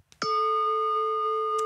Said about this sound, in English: there's a really nice gong, which I think James is about to play for us.